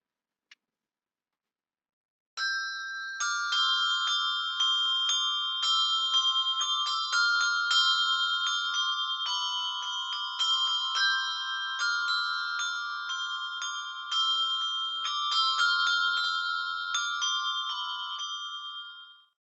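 Handbells struck with mallets on a table ring out Deck the Halls, a steady run of bright, clear chimed notes with overlapping decays, played alone without voices for about sixteen seconds after a brief initial tap.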